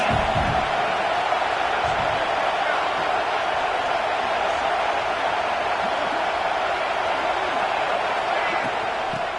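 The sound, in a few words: football stadium crowd noise at Clemson vs Tennessee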